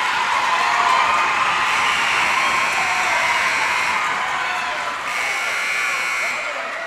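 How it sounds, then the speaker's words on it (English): A crowd at a girls' basketball game at St. Elizabeth's center roars and cheers in a steady, loud wash of noise, with a buzzer-like tone and a commentator talking underneath. "the crowd really getting into it here now"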